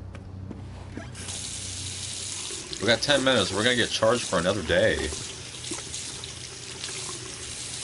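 A water tap runs steadily in the video game Twin Mirror, a constant hissing stream heard close by while someone speaks over it partway through.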